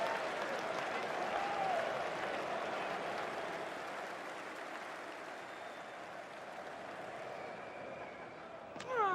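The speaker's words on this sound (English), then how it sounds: "the crowd is going absolutely berserk" A cricket crowd cheers and applauds wildly in a stadium, a dense, roaring wash of clapping and shouting that swells early, eases slightly, then surges again at the end.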